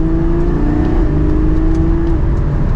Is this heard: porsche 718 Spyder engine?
yes